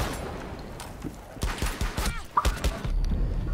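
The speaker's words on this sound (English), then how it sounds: "Did I shoot you with my deagle?" Several Desert Eagle pistol shots fired in a first-person shooter, heard as a handful of sharp reports spread over a few seconds amid busy game noise.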